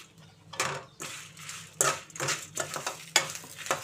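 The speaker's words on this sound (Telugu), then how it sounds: "ఈ కళాయి వేడికి ఈ నువ్వులు కరివేపాకు వేగిపోతున్నాయి అన్నమాట." Sesame seeds and curry leaves crackling in a hot kadai with the stove off, while gongura chutney is being made. Soft sizzling and popping are broken by several sharp clicks of a spoon scraping the pan.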